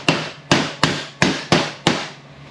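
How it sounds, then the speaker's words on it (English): Six sharp, ringing hammer strikes land in a steady rhythm on the bolt holes of a 1968 Torqueflite transmission oil pan held on a table edge, close and loud, each decaying quickly, no voices. "Smack down the bolt holes. That should get us pretty flat."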